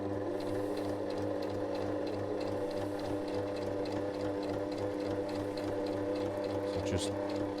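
Sewing machine stitching a corner pocket, a steady close mechanical whir with a fast rhythmic needle tick running continuously, plus a faint clack near the end.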